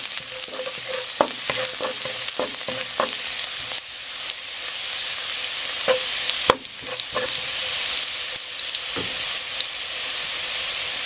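Garlic fries in hot cooking oil in a pot: a continuous close hiss and sizzle punctuated by sharp utensil clicks and scrapes against the pot, no talking.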